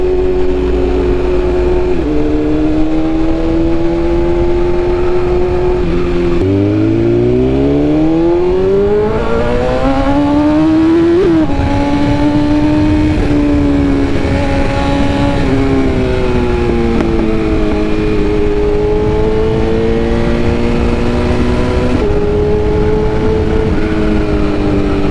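A 2022 BMW S1000RR sport motorcycle engine revs loudly and steadily while riding at around 5,000–6,000 RPM, its pitch rising and falling with throttle changes for the full stretch, alone without talk.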